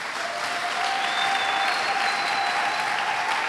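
A church congregation applauds in a dense, steady wash of clapping that stays even throughout, with faint tonal sound underneath.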